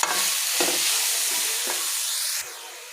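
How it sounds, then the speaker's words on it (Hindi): Spiced chicken sizzles loudly in a hot pan while being stirred and fried, the steady crackle broken by scraping strokes of the spoon. "इसे करेंगे हम अच्छे से मिक्स और अच्छे से कुक करेंगे"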